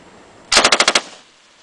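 Rapid burst of about six gunshots at a shooting range, sharp evenly spaced cracks fired close by in under half a second, followed by a brief fading echo.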